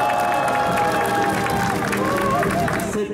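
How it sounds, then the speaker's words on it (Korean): A crowd at an outdoor unveiling ceremony for an elder-abuse prevention campaign applauds and cheers, a dense, sustained wash of clapping and shouting voices that holds steady for a few seconds before tapering at the end. "제막식을 힘찬 박수와 함성으로"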